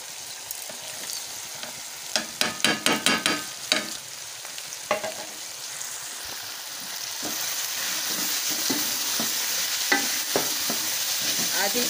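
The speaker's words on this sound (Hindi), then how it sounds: "अब जो मैंने मसाले लिए हैं, वो भी मैं इसमें मिला लूँगी।" Spices being stirred into food frying in a pan: a quick run of scraping spoon strokes over steady sizzling, then quieter stirring with a constant crackle underneath.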